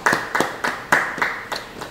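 Congregation at a church Bible study giving a short burst of clapping, about seven loud, close, distinct claps in an uneven rhythm that fade slightly toward the end.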